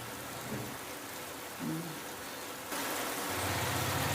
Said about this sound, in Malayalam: മഴ പിന്നെയും ശക്തമാവുകയാണ് അടുത്ത മഴ പുറകെ വന്നുകൊണ്ടിരിക്കുന്നു